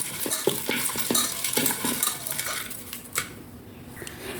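Chicken is stirred in a pot with mandi masala for a pressure-cooker chicken mandi: a spoon scrapes and clinks against the metal in quick, uneven strokes, close and moderately loud, then trails off into quiet.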